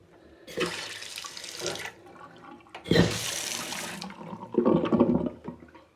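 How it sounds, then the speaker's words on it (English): Water rushes into a toilet tank in three loud hissing bursts, with gurgling and splashing between them, close by. "Just the toilet filling up."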